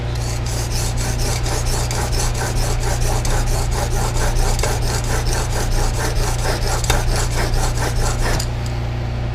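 A hand plane blade from a Stanley Type 20 No. 4 being sharpened on a 1000 grit diamond plate, rapid rhythmic rasping strokes back and forth, close and loud, stopping near the end.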